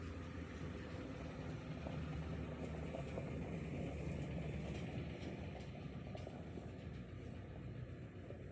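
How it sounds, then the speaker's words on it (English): A truck driving past, a steady low rumble holding at constant loudness throughout with no clear approach or fade. "Here comes my son in his truck."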